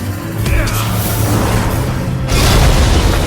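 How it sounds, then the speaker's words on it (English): A creeper explosion destroys a grinder machine in Minecraft Story Mode, a loud, sustained booming blast that surges again near the end, dense and roaring without any talk over it. "He only survives by using a creeper explosion to destroy the machine."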